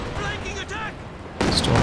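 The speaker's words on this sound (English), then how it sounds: "There's the Katyusha going after the machine gun." Katyusha rocket artillery firing in the Company of Heroes 2 strategy game, a rough burst of launches and booms with whooshing tones, followed by a louder sustained roar of fire.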